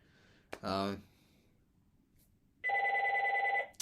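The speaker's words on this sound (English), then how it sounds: "My phone is ringing." A phone rings indoors in two short bursts of a bright, warbling electronic tone, separated by a quiet gap and heard fairly close.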